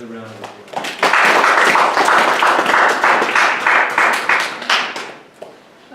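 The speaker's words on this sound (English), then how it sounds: "Let's give Jennifer Himala another round of applause." Hearty applause from an audience with steady clapping over several seconds, with voices mixed in underneath.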